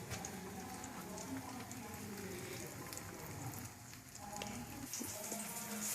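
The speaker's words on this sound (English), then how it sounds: "so we've been frying some of our eggplant here" Eggplant slices fry in a pan with a steady, dense crackling sizzle that holds evenly from start to finish, close and moderately loud.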